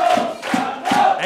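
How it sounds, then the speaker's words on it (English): Bradford Bulls supporters in a record rugby league crowd applaud in broad, sustained swells of clapping and cheering, rising and easing in waves with no talk over it. "They're all on the feet. They're applauding and showing some love to the men from Oxford Stadium."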